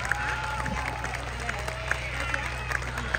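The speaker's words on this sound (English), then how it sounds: "A round of applause, ladies and gentlemen, for a gallant and noble competitor!" Crowd applause at an outdoor medieval jousting tournament at Linlithgow Palace, Scotland: steady, dense clapping from a large audience sustained throughout, with scattered louder claps and a few cheers over a low background hum.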